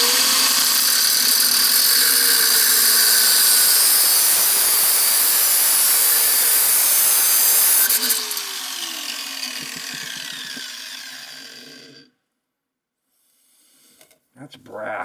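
A power saw cuts through a kitchen sink drain pipe, a loud sustained grinding whine for about eight seconds that drops and slows as the blade winds down, followed by quiet and a brief clatter.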